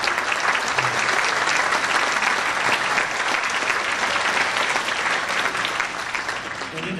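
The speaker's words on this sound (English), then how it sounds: "they deserve a huge round of applause for all their effort and all their hard work tonight" A gala audience claps in sustained, dense applause filling the room for several seconds, holding steady and easing slightly toward the end.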